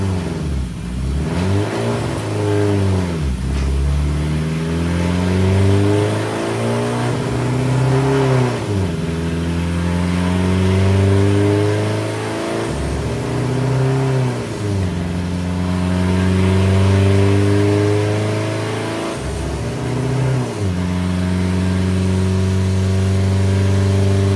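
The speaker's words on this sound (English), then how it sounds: "I'll get it warmed up and then let's make a dyno pull." Triumph TR4 race car engine revving repeatedly on a dyno, loud and close, with several sweeping rises and falls in pitch between brief dips toward idle.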